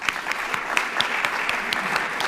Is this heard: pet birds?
no